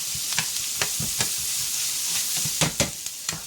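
Onions and steak sizzle in a hot pan for Philly cheesesteak, a steady close frying hiss broken by repeated short scraping clicks of stirring, with a few sharper knocks near the end.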